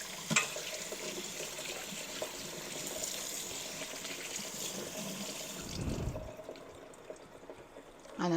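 Peppers get washed under a running kitchen tap, with a steady hiss of flowing water and splashing that cuts off near the end, followed by a brief clunk.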